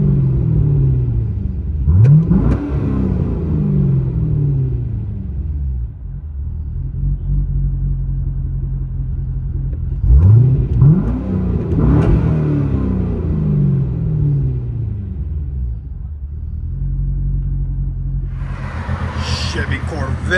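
Deep, loud exhaust rumble from a straight-piped, cammed 2004 Chevy Corvette 6.0L V8 with rear muffler delete and H pipe, heard from inside the car, idling choppily with two sharp revs rising and falling, plus brief faint talk near the end.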